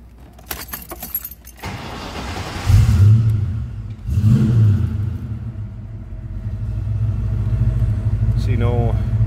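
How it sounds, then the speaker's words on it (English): Keys jingle, then a 1989 Ford Mustang GT convertible's engine cranks and roars to life, revs twice and settles into a deep, steady rumbling idle. "Let's go ahead and fire it up so you can see this run."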